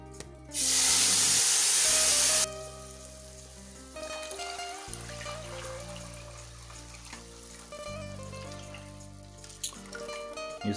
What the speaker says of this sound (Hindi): ये सारा मैंने डाल दिया है पानी।